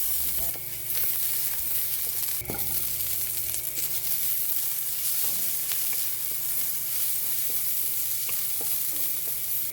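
Longganisa sausage sautéing in a pan gives a steady, close sizzle with scattered spatula scrapes and stirring clatter throughout, with no voices.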